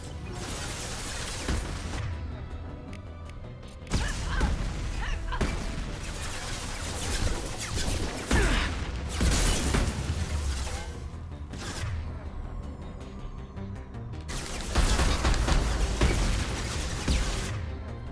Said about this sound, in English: This is so irritating with rockets flying at that rate.